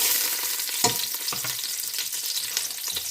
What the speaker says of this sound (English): I'm gonna add all the whole spices to it. And we'll be just cooking them.